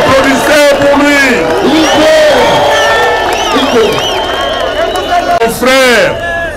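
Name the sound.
crowd applauding and cheering for Jean-Pierre Bemba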